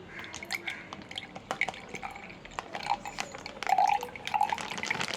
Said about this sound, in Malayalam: അതിലേക്ക് നമുക്ക് പാൽ ഒഴിച്ചെടുക്കാം.